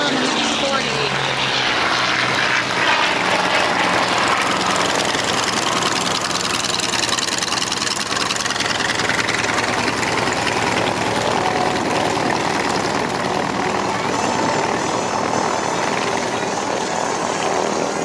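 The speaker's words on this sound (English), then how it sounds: "And there goes Tom in the P-40" A P-40 warbird flies at an airshow with a loud, continuous piston engine and propeller roar that fills the whole stretch at close range, with faint background talk.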